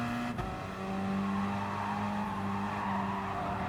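Gr.4 race cars in Gran Turismo Sport at Autopolis Short, engines droning steadily together at high revs with a tonal whine and brief tire noise, continuous and loud throughout.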